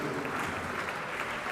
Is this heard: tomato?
no